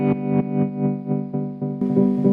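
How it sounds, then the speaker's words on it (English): Sustained guitar notes pass through a Seymour Duncan Shapeshifter stereo tremolo pedal, swelling and dipping in a steady choppy pulse of about four beats per second, with no voices. "If I play, you can hear kind of choppiness of it kind of change there"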